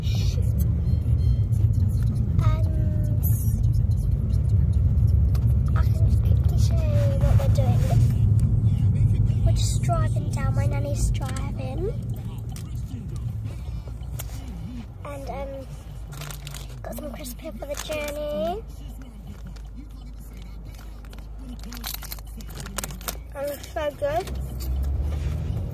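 A car drives down the road on a trip, its engine and tyre noise a steady low rumble. People talk and small rustles and clicks come and go inside the cabin.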